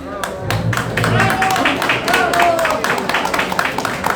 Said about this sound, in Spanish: Para el almuerzo se aplaude más.